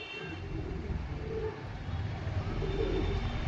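Pigeons coo softly amid a low, steady rumble of traffic nearby, with faint voices mixed into the background murmur.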